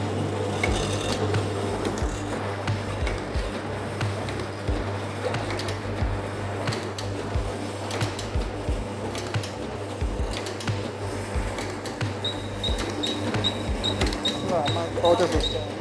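An ice candy pouch packing machine runs steadily and loudly with a constant mechanical drone and repetitive clacking throughout, and a faint high whine appears near the end.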